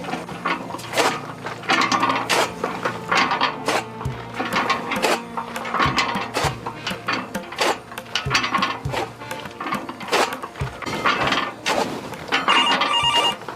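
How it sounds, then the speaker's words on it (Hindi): A telephone rings loudly and repeatedly in a fast, rattling electronic pattern that fills the whole stretch with no talking over it. "ये क्या फोन आवत बा?"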